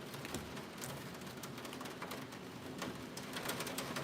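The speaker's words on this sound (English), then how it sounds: "the rain is coming down hard" Heavy rain pours down steadily and close by, a dense continuous hiss of drops with sharper patters on hard surfaces, holding at an even level with no voices.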